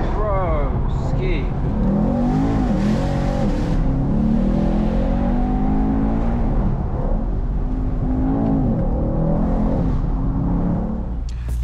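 A tuned 1175 Nm, 700 bhp Mercedes E63 AMG pulling hard through its gears from inside the cabin: a loud, continuous engine roar climbs in pitch, drops at each shift and climbs again, while occupants talk over it.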